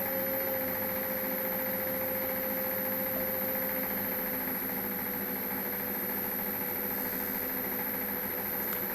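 A bicycle rim straightening machine with a carbide cutter spins at about 900 RPM, giving a steady mechanical hum with a constant whine and faint vibration, with no talk.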